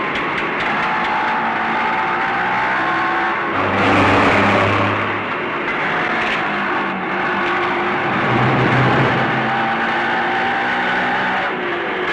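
A car drives with a continuous, loud engine roar that swells twice, as if braking or shifting, and then settles. The sound runs steadily throughout with no voices.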